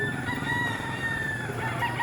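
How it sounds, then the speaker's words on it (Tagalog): Hens cluck nearby while a rooster crows with a drawn-out, tonal call, loud and close, no one speaking. "Ayun ang mga manok."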